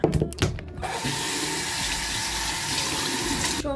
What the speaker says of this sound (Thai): ไปล้างหน้าก่อน